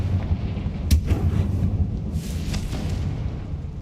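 A Confringo fire-blast spell from Hogwarts Legacy explodes with a sharp crack followed by a rumbling boom, then a second burst with a hissing crackle, over a low continuous game rumble.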